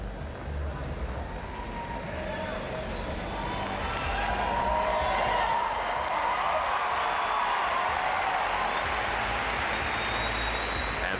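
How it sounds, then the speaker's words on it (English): An arena crowd at Arrowhead Pond of Anaheim claps and cheers at the 2003 World Gymnastics Championships men's team final, with loud, sustained applause and whoops that build and stay strong throughout, a commentator talking briefly over the noise. "this crowd at Arrowhead Pond of Anaheim is really into their gymnastics"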